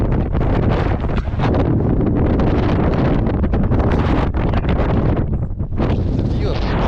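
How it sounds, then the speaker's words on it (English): Strong wind buffets the microphone at the summit of Cerro Negro volcano in Nicaragua, a steady loud roar with gusty surges throughout, briefly dipping near the end. "It's quite windy"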